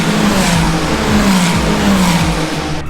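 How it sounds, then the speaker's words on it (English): Ferrari Formula 1 cars screaming past on track during a practice day at the Canadian Grand Prix in Montreal, a loud, sustained engine roar with rising and falling pitch sweeps, with no voices heard over it. "They got the Ferraris out on track. Love it. Look at them go."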